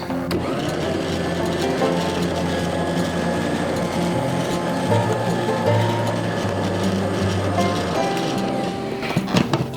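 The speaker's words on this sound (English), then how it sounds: "now we'll mix the dry ingredients with our creamed butter, or the butter and sugar mixture" An electric mixer beats dry ingredients into creamed butter and sugar for pumpkin chocolate chip cookie dough, running as a steady, close mechanical whir with a few knocks toward the end.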